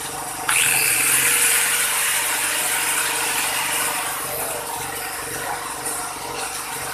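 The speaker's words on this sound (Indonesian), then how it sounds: "Itu bor masih hidup ya, bornya masih hidup" An electric drill runs continuously on power from a 2000-watt generator, a dense, loud whirring hum that starts abruptly and holds steady, easing slightly in level toward the end.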